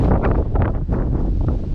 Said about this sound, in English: it's really windy out here guys